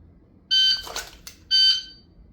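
Two sharp, loud electronic beeps from a shooting shot timer, about a second apart, each a steady high tone with a faint clatter between them.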